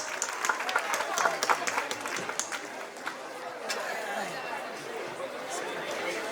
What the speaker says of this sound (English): Please welcome Saksham with a huge round of applause.